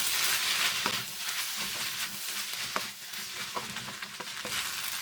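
Fried vegetables are tossed and mixed in a hot pan with previously deep-fried chicken. A steady sizzle runs throughout under repeated scraping and clinking stirs. The sound is close and fairly even, with no voices.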